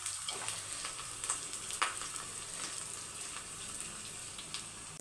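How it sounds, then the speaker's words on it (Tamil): Crushed garlic cloves and curry leaves fry on low heat in a pan for village-style fish curry, giving a quiet, even crackle with occasional small pops and light clinks throughout, without any voices. "சிம்மில் கொஞ்சம் வச்சுருக்கேன் ஏன்னா பூண்டு நல்லா வதங்கட்டும்"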